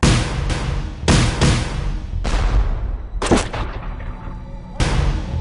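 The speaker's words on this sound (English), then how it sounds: "orders him to fire grape right into the mass of struggling men, both Americans and British," Battlefield cannon firing grapeshot into a mass of fighting men during the American Revolution, heard as a rapid series of loud, close booming blasts with rumbling decay between them, several shots in about five seconds.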